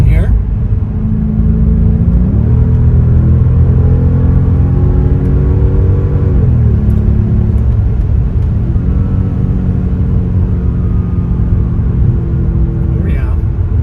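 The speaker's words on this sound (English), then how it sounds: "I will do a little acceleration here on the highway just as soon as traffic clears a little bit." A 2005 Mercedes CLK55 AMG's engine rumbles loudly up close on a highway, its pitch climbing, dropping at each gear change, then climbing again as the car accelerates.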